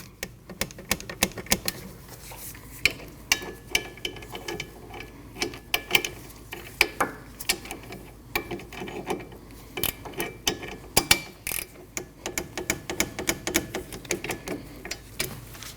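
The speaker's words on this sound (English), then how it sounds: "torque those two at 38 foot-pounds" A hand wrench ratchets on rear suspension bolts of a 2003-2008 Subaru Forester, giving quiet, irregular metallic clicks and short ratcheting bursts at close range.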